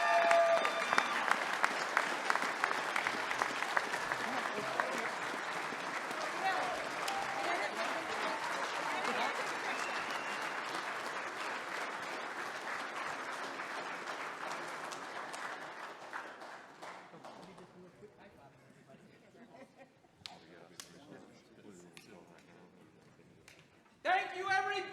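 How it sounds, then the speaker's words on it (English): A gala crowd at a security and safety association honors celebration applauds the CEO and president with sustained, dense clapping that stays strong for most of its length, then thins into scattered claps and faint voices. "Please help me give them a round of applause."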